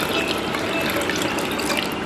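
Water pours steadily into a pot of dal in a village kitchen, a continuous close splashing gush with no breaks.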